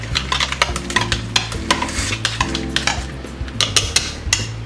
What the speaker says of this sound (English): Mix it together.